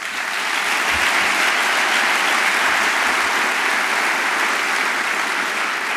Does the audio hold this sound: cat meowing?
no